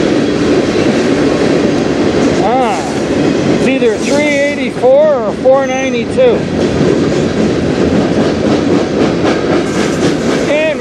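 Passing close and loud, a CN freight train in Sarnia, Ontario, gives a sustained rumble and rhythmic wheel clatter throughout, while someone talks over the noise for a few seconds in the middle.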